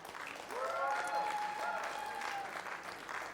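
An audience applauds a conductor at a concert event, with steady, fairly loud clapping from a crowd, while a sustained tone and faint murmuring carry underneath.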